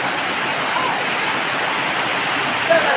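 Heavy rain pouring down in Bayog, Zamboanga del Sur, a dense, even, close hiss of falling water that stays steady throughout, with no voices.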